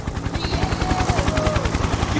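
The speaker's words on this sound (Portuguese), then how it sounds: "Comandante Hélio, Hélio e helicóptero, atenção agora sim! Tô colocando no chão" A helicopter landing at a rodeo, its rotor chopping in a fast, steady rhythm close by, with engine whine rising over the thudding blades.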